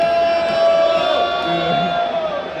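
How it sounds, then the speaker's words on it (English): A crowd inside an NBA arena, heard from a suite, sending up a sustained, fairly loud collective drone of booing with mixed shouts, steady across the moment. "you hear everyone booing him"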